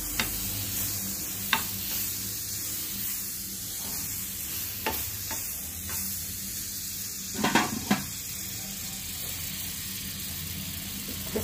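Butter sizzles gently in a pan over a low flame while rice dosa is prepared, a steady close frying hiss broken by occasional scrapes and clinks of a utensil against the pan.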